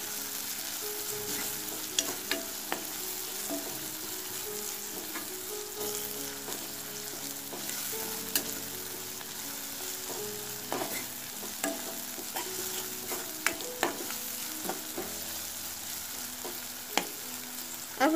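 A paste of turmeric, garlic and cumin is stirred in a hot pan, a constant sizzle broken by repeated scraping clicks of the spoon, close up, no speech.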